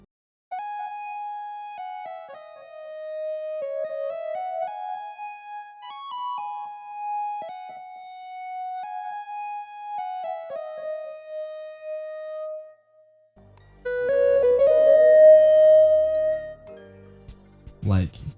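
Smooth R&B synth lead from the Arcade Honey bank plays a gliding, sliding melody of clear sustained tones, alone and up front, before drums and bass join near the end.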